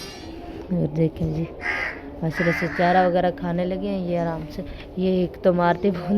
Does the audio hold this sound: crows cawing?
yes